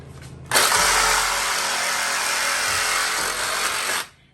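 A Sawzall reciprocating saw cuts out an old jalousie window, starting abruptly and running loud and steady for about three and a half seconds before stopping, with no talk.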